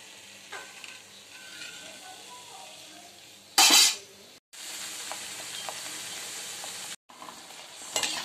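Mung dal and wheat flour papad frying in hot oil, a steady crackling sizzle broken by a loud burst of bubbling and brief silent gaps, with faint kitchen clatter.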